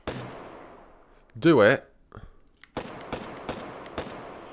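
Gunfire in a video game comes as a brief loud burst near the start, then a series of sharp, evenly spaced single shots. Someone talks between the shots.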